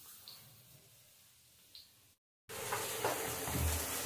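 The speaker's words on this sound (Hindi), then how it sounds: "ऑयल गर्म होते ही सब प्याज, हरी मिर्ची, लहसुन, अदरक सबको एक साथ मिक्स डाल दूंगी" Onions, green chillies, garlic and ginger hit hot oil and burst into a loud, steady sizzle after a brief silence, with fainter frying and stirring sounds before the pause.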